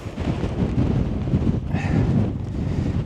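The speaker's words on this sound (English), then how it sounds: "That wind is picking up" Steady, strong wind buffets the microphone on an exposed hilltop overlooking Honister Pass, a continuous loud rumble with gusty swells and no speech.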